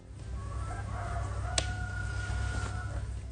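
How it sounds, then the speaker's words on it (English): A rooster crows at night in a rural valley in Wuyuan, a clear drawn-out call rising and falling over a steady low background hum, with a brief sharp click partway through. "Why are there roosters crowing?"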